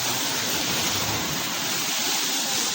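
Water of a stream flows in a continuous broadband rush, steady and fairly close, filling the scene from start to finish with no voices.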